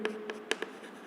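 A pen or marker writes on a board during an accounting lecture, a few short faint scratchy strokes in quick succession.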